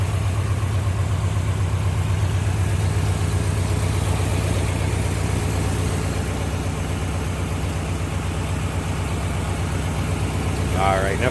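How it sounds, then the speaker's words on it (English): A 1949 Lincoln Cosmopolitan's 337 cubic inch flathead V8 idles with a low, steady rumble, running evenly throughout without revving. "There's a 337 cubic inch flathead V8 engine."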